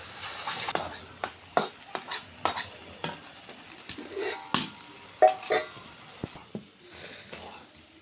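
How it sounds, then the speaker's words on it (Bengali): Jute leaf greens stir-fried in a pan, with repeated scraping stirs and a soft sizzle underneath, close and irregular, one spatula stroke after another. "দেখুন এরকম করে লাড়ে লাড়ে পাটের শাকটা ভাজি করছি"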